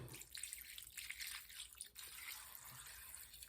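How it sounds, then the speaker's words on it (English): Zep Fast 505 degreaser solvent is poured into a small bowl, producing a quiet, steady trickle with faint drips for a few seconds and no voices. "I've got some solvent, Zep Fast 505 degreaser, and I'm just going to pour that in there"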